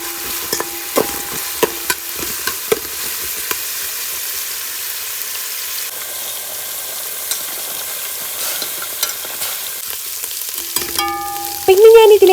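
Ginger, garlic and chopped green chilli fry in a pan with a steady faint sizzle, while a utensil scrapes and taps against the pan in frequent stirring strokes.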